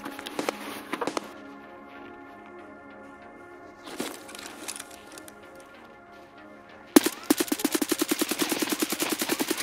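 Gunfire in the video game Escape from Tarkov: a short burst, a single volley, then a sustained rapid automatic stream of sharp shots, loud and close.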